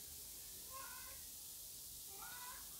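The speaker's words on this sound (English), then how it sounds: "What's up with you, cat?" A cat gives two faint meows, spaced about a second and a half apart, against a steady background hiss indoors during a smartphone gimbal unboxing.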